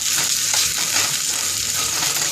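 Corned beef frying in a pan, a loud, dense, continuous sizzle and crackle throughout, with no voices.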